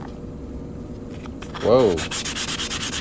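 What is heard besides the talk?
sanding the cut edge of a coin ring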